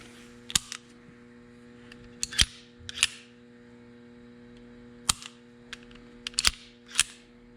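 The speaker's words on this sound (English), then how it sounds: "Put the oil in, and I'll dry fire it a couple times." A Kimber Micro 9 ESV pistol gives a series of sharp metallic clicks and clacks, several close together and then a scattered few, as the slide is racked and the trigger dry fired indoors over a low steady hum.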